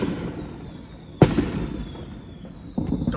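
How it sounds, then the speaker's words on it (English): Fourth of July fireworks go off outdoors, a sharp loud bang followed by a fading crackle and a second, softer burst, over a steady background murmur. "There are only explosions."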